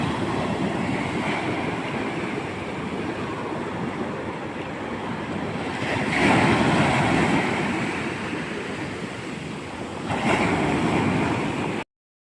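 Ocean surf rolling onto Golden Beach in the morning: a steady broadband wash with swells building around the middle and again near the end, close and fairly loud, mixed with wind noise, no voices.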